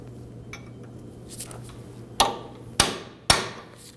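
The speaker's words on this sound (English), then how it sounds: "We're going to lock the axle nut in place using a chisel and a hammer." Three sharp metallic hammer blows on a chisel in quick succession, locking an axle nut on a 2013-2015 Subaru XV Crosstrek, ringing briefly, following some lighter clinks, with a low hum in the background.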